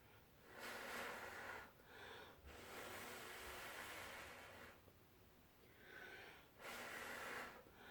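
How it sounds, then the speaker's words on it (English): Repeated nasal sniffling from someone just getting over a cold, several close breathy sniffs and snorts in irregular bursts with short quiet gaps between them, no talking. "Sorry if I'm sniffling."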